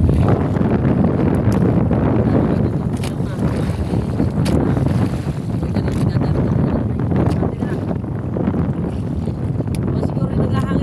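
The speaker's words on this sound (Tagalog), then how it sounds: "May hangin." Wind blows outdoors in a steady, loud broadband roar that buffets the microphone without letup for about eleven seconds, with brief gustier swells and faint clicks.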